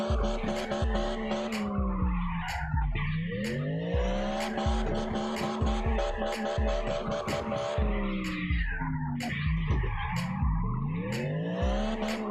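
Car drifting in CarX Drift Online, with steady tire squeal riding over a revving engine whose pitch rises and falls through repeated slides, loud and continuous throughout.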